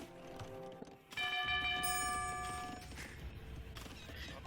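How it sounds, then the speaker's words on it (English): A town bell rings in Age of Empires II, a run of bright metallic chimes over busy game noise of hooves and battle clatter, starting about a second in and fading after a couple of seconds. "So the town bell is being rung."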